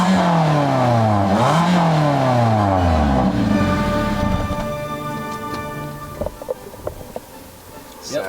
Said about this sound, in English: Yep, that's it. It's an engine.